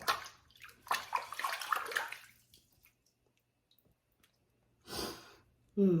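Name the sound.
water being added while preparing shaving soap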